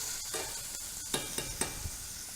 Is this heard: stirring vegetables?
yes